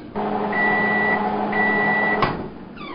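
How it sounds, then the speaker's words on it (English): A microwave oven hums steadily with a constant drone and faint tonal whine, ending in a brief click as it stops. "We'll melt these in the microwave."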